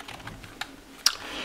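Soft taps on the membrane keys of a Genesis Rhod 400 RGB keyboard, a few scattered light presses with one sharper click near the end, close up against faint room hiss.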